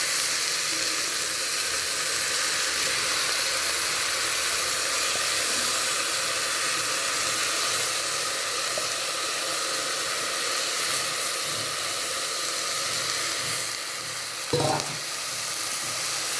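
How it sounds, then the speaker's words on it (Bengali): Washed rice and red lentils fry in a pan for khichuri, producing a continuous, even sizzling hiss that holds steady throughout, with a faint clink near the end. "এবার আমি চাল ডালটাকে ভালো মতন ভেজে নেব।"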